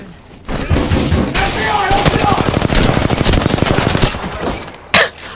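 Automatic weapon fire in the video game Apex Legends during a ranked squad match, a loud sustained rapid burst lasting several seconds, ending with a final heavy shot.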